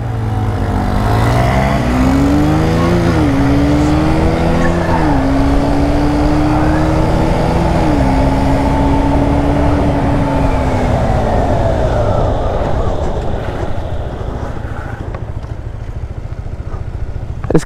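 A KTM Duke 125 and a Honda Grom MSX 125 accelerating hard in a race, engines droning loud and steady as revs climb and dip with each gear change, then fading slightly toward the end.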